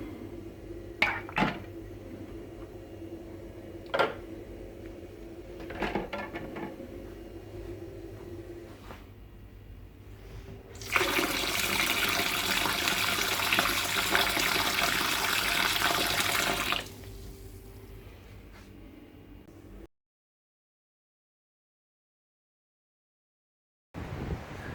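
Tap water runs to fill a sink and soak three jars, a steady rushing gush lasting about six seconds after some scattered clinks of glass, then stopping abruptly into silence.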